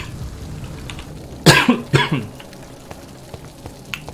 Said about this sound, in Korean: 기침 죄송합니다, 여러분.